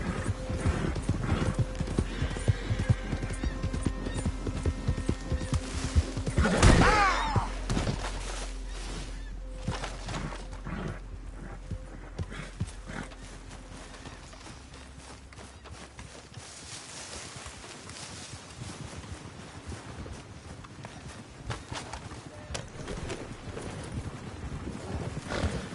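Horse hooves clip-clop steadily at a gallop in the Red Dead video game, with a whinny partway through, loud at first and then easing to a softer, continuing trot under ambient game sound.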